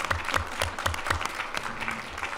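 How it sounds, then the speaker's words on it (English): An audience at a school district board of education meeting applauds students with steady, moderately close clapping that runs through the whole stretch. "Let's give them a round of applause"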